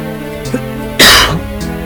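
A single sharp cough bursts out close by during Shining Soul gameplay, preceded by a soft throat sound, with tonal background music continuing underneath.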